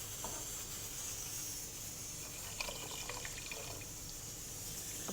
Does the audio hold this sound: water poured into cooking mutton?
yes